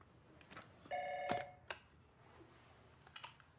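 A telephone rings once with a bright electronic trill over a quiet room, followed by a couple of faint clicks and soft taps.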